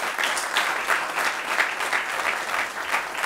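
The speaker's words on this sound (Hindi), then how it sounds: "आपको कैसी लगी एक बार फिर से तालियां बजाएं।" A theatre audience applauds steadily after a stage play performance, dense continuous clapping from many hands at moderate distance, with no speech over it.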